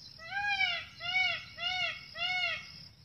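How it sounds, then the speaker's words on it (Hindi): Forest birds calling in a calm outdoor setting: four clear, evenly spaced, rising-and-falling calls about a second apart, moderately close against a soft, quiet background. "क्योंकि यहाँ भिन्न भिन्न प्रकार के पक्षी चहचहा रहे हैं।"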